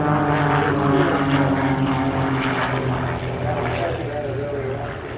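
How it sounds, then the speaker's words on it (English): Aerobatic Pitts biplanes, highly modified, fly a display at an Australian airshow at Shellharbour, their propeller engines droning loud and steady with a slight fade toward the end, with talk mixed in over the noise. "They display a mixed fleet of highly modified Pitts biplanes"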